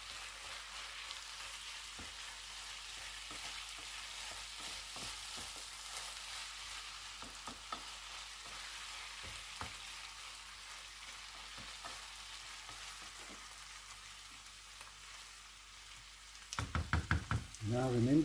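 Rice stirred and coated in a hot pan with chicken and chorizo, a steady low sizzle broken by scattered spoon knocks and scrapes against the pan, ending in a louder burst of clattering stirs.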